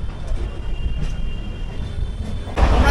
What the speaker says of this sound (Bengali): দেখো ট্রেন কিন্তু 115 স্পিডে চলছে